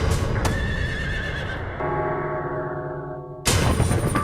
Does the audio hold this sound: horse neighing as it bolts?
yes